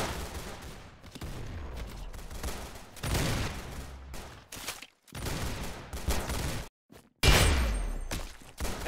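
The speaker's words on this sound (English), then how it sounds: "Very good shooting." Rapid bursts of gunfire from a Roblox Arsenal match crackle almost continuously, with dense volleys separated by a few brief gaps and a heavy blast near the end.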